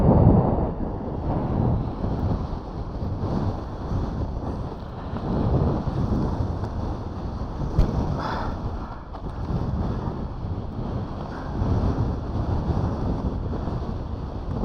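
Strong, cold wind buffets the microphone during wing foiling on water in falling snow, a continuous loud roar with gusty surges and no voices.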